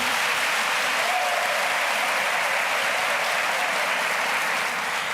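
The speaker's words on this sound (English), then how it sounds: "A big round of applause." A large crowd at a university welcome ceremony for the Rector and Vice-Chancellor applauds loudly and evenly, a dense wash of clapping that holds for the whole stretch.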